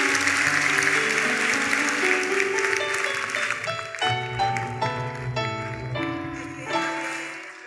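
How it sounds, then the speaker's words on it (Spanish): A church congregation breaks into applause, a broad clapping wash at the start that thins out as sustained keyboard-like musical tones carry on and take over. "Aplausos para todos"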